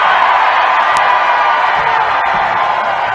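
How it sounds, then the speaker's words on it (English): A large rally crowd in Pennsylvania cheers for Donald Trump, a loud, continuous roar of shouts and whoops that holds steady throughout, with no clear single voice standing out. "Crowd was going crazy for Donald Trump in Pennsylvania yesterday"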